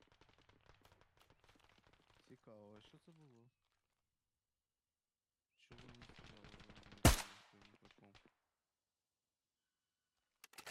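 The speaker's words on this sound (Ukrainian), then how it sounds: "Пробую по ньому стріляти." Gunfire in the Arma Reforger video game aimed at an enemy armoured personnel carrier, a single loud sharp shot with a ringing tail, framed by bursts of game sound and faint speech.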